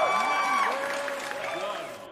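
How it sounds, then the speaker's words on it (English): Crowd applause and cheering for a celebrity home run by Gordon Ramsay at a softball game, fairly distant and steady, with a commentator talking over it. "Gordon Ramsay's getting all kinds of applause there from the crowd."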